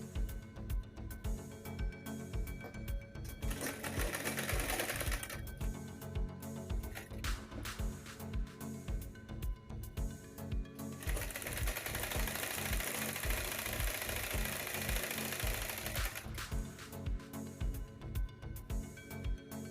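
Sewing machine stitching the sleeves of a kurta, rapid rhythmic needle clatter in bursts with brief pauses between runs, close and fairly quiet.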